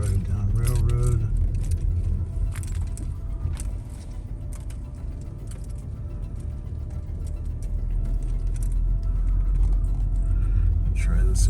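A car idles and rumbles close behind someone on a night journey through Loleta, with a low engine drone and faint mechanical rattles running steadily under a voice.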